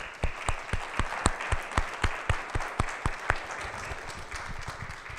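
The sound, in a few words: audience applause at a summit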